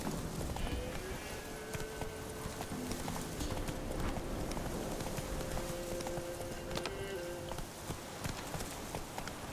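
Roach, a horse in The Witcher 3, gallops with a steady, rapid clip-clop of hooves that runs the whole time, up close, over a low game soundscape with tonal music lines.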